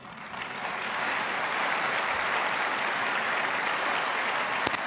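An audience at a spiritual gathering claps warmly for the performers, the applause swelling within the first second into a full, steady ovation that carries on evenly to the end.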